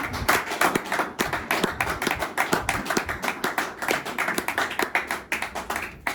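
A church congregation claps together in a steady, brisk rhythm of sharp hand claps, moderately close and filling the room, with little talk over it.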